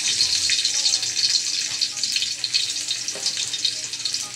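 Garlic sizzling in a frying pan of hot oil, a bright, continuous crackling hiss that stays steady and close throughout, with no speech over it.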